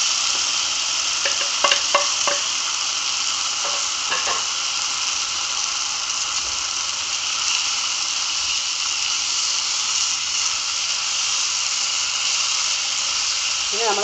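Beef frying in a pan for a Kerala-style beef fry with green peppercorns and bird's eye chilies, giving a steady, dense sizzle throughout with a few clinks of stirring near the start.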